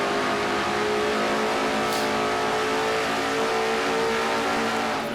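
A race car engine in a racing video game revs hard and steadily as the car heads into turn one on the Riverside track, one loud continuous engine drone with rising pitch and no voices.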